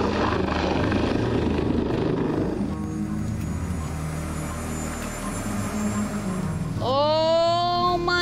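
Rescue helicopter hovering over remote Northern Territory waters during an airlift, a loud steady rotor roar that drops back midway, then a rising whistle of engine whine near the end.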